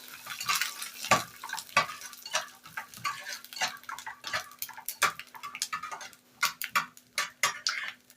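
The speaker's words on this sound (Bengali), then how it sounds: "বাদামটাকে ভেজে নেব।" Peanuts frying in hot mustard oil in a pan, heard close up as irregular crackling pops and sharp sizzling bursts with light clatter throughout, no voices.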